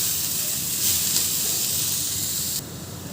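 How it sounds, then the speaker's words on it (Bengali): Sliced onions frying in a pan after eggs, a loud continuous hiss and sizzle that cuts down suddenly near the end, with no talking. "ডিম ভাজার পরে এটাতে পেঁয়াজ দিয়ে দিলাম।"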